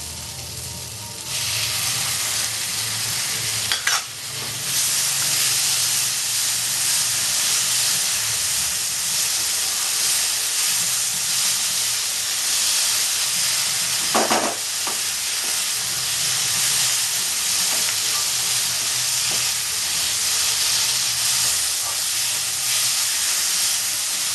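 Chopped tomato hits spice paste in a pan for Bengali egg curry, giving a steady, close sizzling hiss throughout, with a few brief stirring scrapes and no talking.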